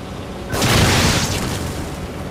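A bomb in The Evil Within is shot and explodes in one loud, broad boom that swells suddenly and then fades slowly into a rumbling tail, with no voices.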